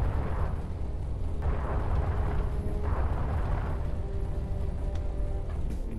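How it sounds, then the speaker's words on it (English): In the space-combat game Everspace, a big explosion booms with deep, sustained low-end roar and repeated swelling bursts of rumbling debris, loud and dense throughout without any speech. "that brief burst of excitement and that big explosion"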